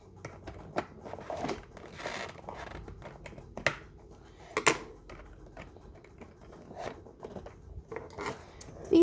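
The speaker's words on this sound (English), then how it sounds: "These scissors quite really aren't doing the job." Scissors snipping and tugging at plastic zip ties on the packaging of a 2022 Thomas and Friends Wooden Railway Edward and Percy toy, with irregular close clicks, crinkles and rustles over several seconds.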